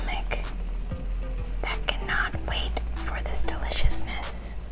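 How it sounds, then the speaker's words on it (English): Kimchi sizzling and crackling in a hot pan, with stirring clatter and soft whispered voices over the steady frying hiss. "you want to throw your kimchi into the pan so that it can start pan frying."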